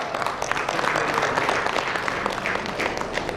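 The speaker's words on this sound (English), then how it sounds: "A big round of applause to Vishal." An audience at a panel discussion applauds a panelist with a continuous wash of clapping that holds steady for a few seconds, with faint voices mixed in.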